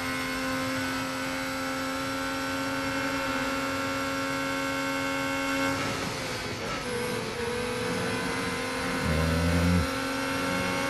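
A Formula 1 car engine in the Real Racing 3 racing game at the Italian Grand Prix eases off the throttle near a corner exit, a steady, high, buzzing whine whose pitch drops and shifts midway, loud with no talking.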